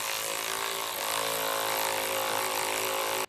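A ratchet with a 5.5 socket backs screws out of a wheel well on a 2018 Ford Explorer, giving a continuous close, loud buzzing whir that runs unbroken and cuts off abruptly at the end, with no speech.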